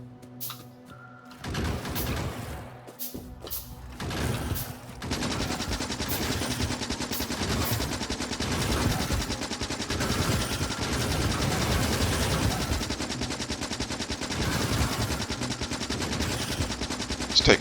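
Gun turrets in the Factorio video game fire steadily at attacking biters, a dense sustained rattle of gunfire that starts after a few scattered shots and keeps going loud and continuous to the end.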